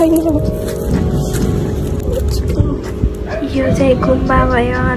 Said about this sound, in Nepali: त्यो यो त कुकुर भुकिरहेको छ क्या.